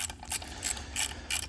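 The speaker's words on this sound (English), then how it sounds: "I just grab this 1/4-inch ratchet until it no spinny" A 1/4-inch ratchet tightens a bolt on a towing setup with a steady run of quick metallic clicks in short bursts, close up and with no talking.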